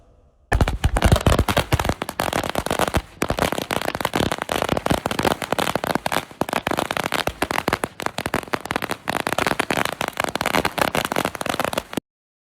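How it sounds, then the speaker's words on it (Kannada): Firecrackers burst in a long, rapid chain at a street celebration for a newly appointed minister, loud dense crackling pops going off continuously before cutting out abruptly. "ಪಟಾಕಿ ಸಿಡಿಸಿ ಸಿಹಿ ಹಂಚಿ ಸಂಭ್ರಮಿಸಿದ ಅಭಿಮಾನಿಗಳು"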